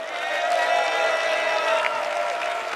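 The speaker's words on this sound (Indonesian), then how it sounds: "saya ajak sekarang semua untuk tepuk tangan" Audience applause at a televised Jakarta gubernatorial election debate, a steady wash of clapping from a crowd that holds evenly for a few seconds, moderately loud with no talk over it.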